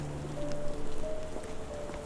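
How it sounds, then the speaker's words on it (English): Steady rain falls in a dreary scene in the Sherlock Holmes The Awakened video game, making a soft, even patter with faint tonal game music underneath. "This dreary rain"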